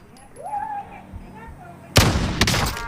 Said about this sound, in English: Yeah, I'm still getting shot at.